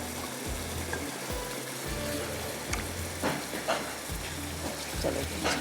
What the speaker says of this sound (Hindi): चलो इसको थोड़ा सा हम भूनेंगे यहाँ पर।